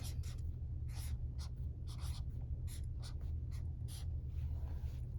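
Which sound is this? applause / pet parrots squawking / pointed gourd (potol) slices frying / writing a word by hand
writing a word by hand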